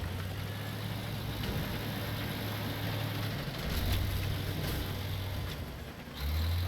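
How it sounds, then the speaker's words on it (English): A vehicle's engine idles and rumbles steadily behind, a low continuous drone that swells slightly at moments, moderately close, with no talk. "Vehicle's still coming behind us."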